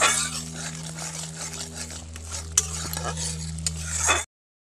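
Spice paste of poppy seed, ginger, garlic, onion, green chilli, turmeric and chilli powder being stirred and fried in a pan, a soft sizzle under a steady low hum, with a couple of sharp utensil clinks near the end.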